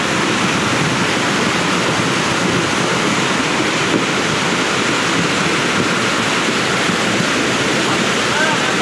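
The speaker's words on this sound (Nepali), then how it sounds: "पानी चाहिँ अघिको भन्दा झन् रोडबाट धुलो आयो है झन्।" Muddy floodwater rushing down a road during a landslide in Majua, Sikkim, a loud, continuous broadband roar that stays steady throughout with no breaks.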